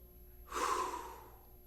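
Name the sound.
person taking a deep breath while folded over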